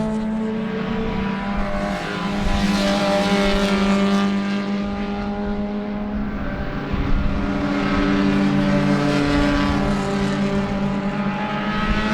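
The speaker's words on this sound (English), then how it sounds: "Hope you guys are getting a good look at these beautiful race cars." Race cars at the Sebring 2 hour enduro pass with sustained, loud engine drones whose pitch swells and falls as they go by, one car blending into the next.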